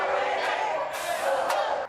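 Crowd of protesters marching outside a terminal, a dense, continuous roar of many voices shouting and chanting at steady volume for a couple of seconds.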